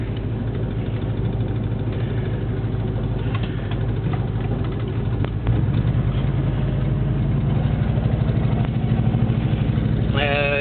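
A 1970 Ford Mustang Grabber runs with a steady, loud, low engine rumble that rises midway as the car pulls off to drive around the block. No one speaks.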